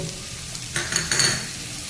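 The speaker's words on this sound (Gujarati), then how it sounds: "આપણે બધું મિક્સ કરતા હોય ને એટલે ફૂલ ગેસે ફટાફટ સતળી જાય" Onion, tomato and green chili sauté over a full flame for a cheese angoori gravy. A steady sizzle sits under quick stirring scrapes, with a short burst of louder spoon-on-pan strokes midway.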